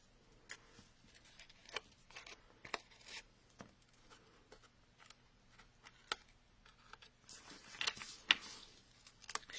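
Paper corners being cut at an angle with scissors for a Paper Pumpkin craft kit, a series of quiet, crisp snips spaced irregularly, growing busier and slightly louder near the end, with no talking.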